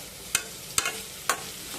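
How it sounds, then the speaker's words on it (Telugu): Grated vegetables and curry leaves frying in a pan, with three distinct scraping strokes of a spoon stirring them over a soft, quiet sizzle. "ఒక 10 మినిట్స్ దాకా ఇలా మనం తిప్పుకొని ఫ్రై చేసుకోవాలండి"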